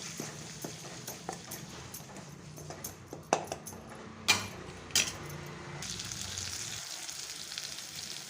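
Green chili, garlic, ginger and cumin paste frying in a pan: irregular scraping and tapping knocks over a low sizzle, louder clatters midway, then a brighter steady hiss toward the end, no talking.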